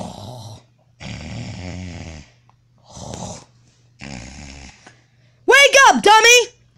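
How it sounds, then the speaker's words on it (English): A person snores in several rough, spaced breaths close by, followed by a burst of higher voiced sounds at the end. "I was just snoring a little bit."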